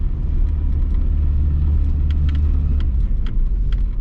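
A 1982 BMW E21 320is Sport Package car drives on a gravel road, giving a loud, steady low rumble of engine and tyres crunching over loose stones throughout, with no talking.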